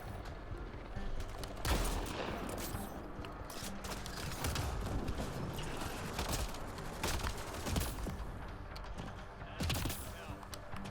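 Sniper rifle gunfire in Mass Effect Andromeda combat, sharp cracking shots spaced a second or two apart over a busy bed of battle noise and mechanical clatter.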